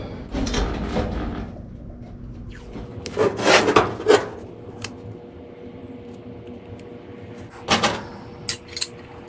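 Bolts are tightened to clamp two flat steel brackets together for rear radius rod mounts, giving several close ratcheting, rubbing metal bursts separated by quieter gaps.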